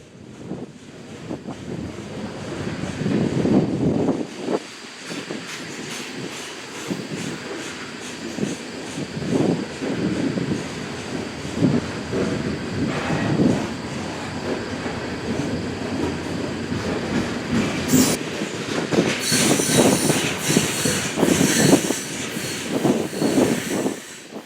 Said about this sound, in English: The two SD-70 ACEs were almost to the bridge when we got there, gaining speed as they crested the grade.